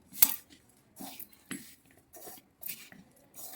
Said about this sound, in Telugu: బెల్లం కానీ పొడి చేసుకుందాం. మనము ఈ పిస్తాలు కానీ వేసుకుందాం. బాగా కలుపుకుందాం.